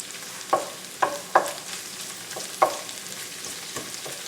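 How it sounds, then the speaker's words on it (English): Onions sautéing in a pan beside halibut, a soft steady sizzle broken by a few sharp clinks and stirring scrapes, close and without talk. "that will allow the onions to continue to cook, to continue to saute and soften during the process"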